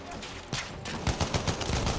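Rapid automatic gunfire from a World War I-era weapon in the Battlefield 1 In the Name of the Tsar setting, a loud close burst of quick shots that sharpens into a dense rattling string.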